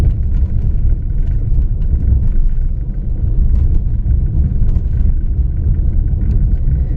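Interior cabin noise of a Maruti car driving over potholes, a continuous deep rumble with irregular thumps and rattles throughout, steady and close, with no talking.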